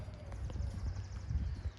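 Horse hooves clip-clop in a steady rhythm during a riding lesson, moderately close, with the footfalls clustering into irregular bursts over a low rumble of arena noise.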